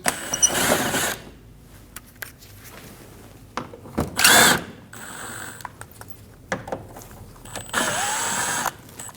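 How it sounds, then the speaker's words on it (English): A power driver with a T25 bit backs out screws under the bumper corner of a Volkswagen Passat, whirring in three short bursts separated by quiet handling noises. "We're going to use a T25 bit and we're going to remove the 3 screws."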